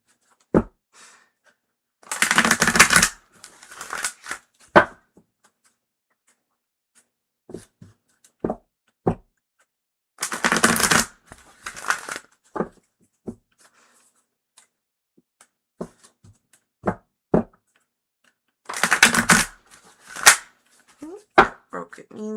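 Tarot and oracle cards are shuffled in three loud, close riffling bursts, each lasting about a second, with scattered light taps and clicks of the cards in between.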